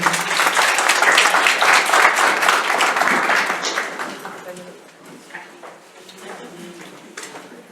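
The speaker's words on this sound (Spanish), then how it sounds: "Le dejo un aplauso grande a la licenciada" Audience applause for a guest presenter at a talk on therapeutic approaches to caregiving families: dense, loud clapping for about four seconds, then thinning to quieter scattered claps with a voice faintly present.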